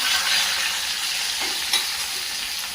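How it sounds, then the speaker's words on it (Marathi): Whole spices (cinnamon, peppercorns, star anise, cloves and bay leaf) fry in hot oil in a kadhai, giving a steady, close, loud sizzle that continues alone throughout. "अशा प्रकारचे हे खडे मसाले टाकले थोडेसे फ्राय करून घ्यायचे"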